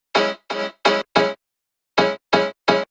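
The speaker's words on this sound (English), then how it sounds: "So the synth is something like this." Short, bright synth stabs from a tech house track made in FL Studio, four evenly spaced hits, a pause, then three more, each sharp and clipped with nothing behind them.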